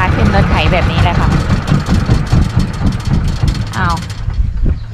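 A farm tractor that has been in use for about ten years rumbles steadily during a ride, its low engine drone continuous and close beneath people chatting.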